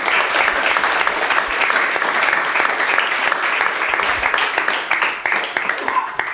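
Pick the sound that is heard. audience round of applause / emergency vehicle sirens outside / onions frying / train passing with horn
audience round of applause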